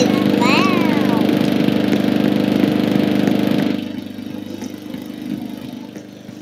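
A lawn mower engine drones loudly and steadily up close while cutting long grass on a football pitch, then drops to a softer, uneven running sound partway through.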